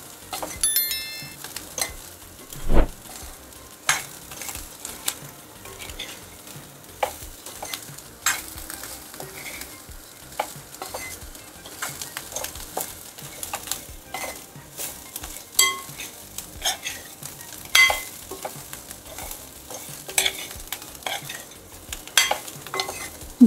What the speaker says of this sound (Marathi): वर्मिसेली आधी नुसत्या थोड्याशा तेलावर भाजून घेऊ शकता वेगळ्या.